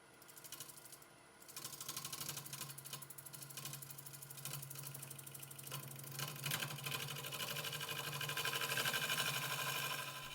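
A wood lathe turns a yew bowl while a large carbide cutter hogs out waste stock, giving a continuous loud whirring, chattering scrape with a steady motor hum underneath and no talking.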